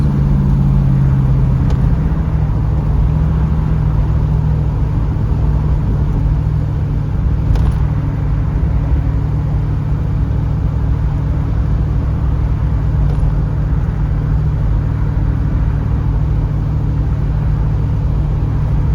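A 1981 Pontiac Trans Am's V8 rumbles steadily from inside the car on an evening drive, a loud continuous low drone with road noise, the engine holding a fairly even pace throughout.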